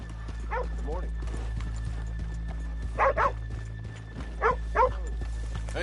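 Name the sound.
horses clip-clopping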